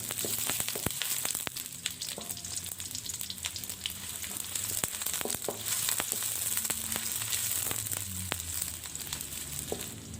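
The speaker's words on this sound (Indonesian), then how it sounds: "Minyaknya sudah panas, sekarang saya masukkan bawang bombaynya. Kemudian saya tumis dulu bawang bombay ini hingga setengah matang." Chopped onion sizzles steadily in hot oil as it is sautéed for a cauliflower and napa cabbage dish, with a constant bubbling hiss and scattered clicks of stirring, close and continuous, no talking.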